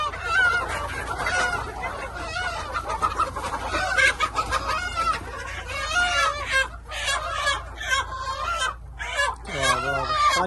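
Many desi chickens on a free-range poultry farm cluck and squawk close together in a dense, busy chorus, while people talk in the background.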